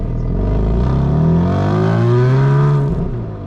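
A BMW M3 engine revs up smoothly and loudly as the car accelerates, the tone rising and holding before easing off at the end.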